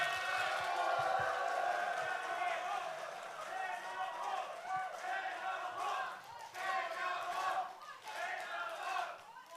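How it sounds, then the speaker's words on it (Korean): A crowd welcomes a speaker at a political party's joint campaign rally, a sustained roar of cheering, shouting and clapping that swells and dips over ten seconds, heard from some distance. "여러분 큰 박수로 맞아주시기 바랍니다"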